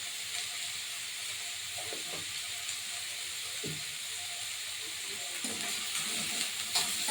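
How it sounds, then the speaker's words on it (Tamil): Onions with salt and turmeric sizzle steadily in a pan for egg kothu chapathi. A continuous frying hiss is joined by occasional soft stirring scrapes of a spatula. "நல்லா வெங்காயம் வதங்கட்டும்."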